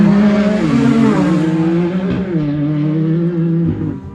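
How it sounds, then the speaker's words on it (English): A loud UTV race car engine roars past up close at the High Desert 100 in Powell, Wyoming, its pitch dropping and shifting as it passes, with gear changes near the end. "Here we have Randy Tucker coming across the elevated power sports start and finish."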